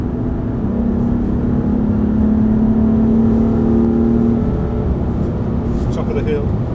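BMW car accelerating hard on the Thruxton racing circuit, a steady engine drone rising in pitch then easing off, heard from inside the cabin.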